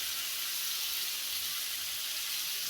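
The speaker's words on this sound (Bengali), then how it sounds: "এই যে ভাজা হইতেছে" Shrimp fry in a pan as a steady, close sizzle and hiss, with no talking and no break.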